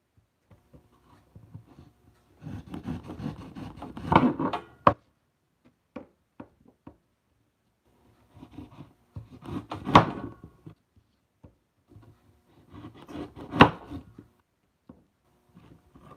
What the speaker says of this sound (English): We're almost done chopping this up, I think.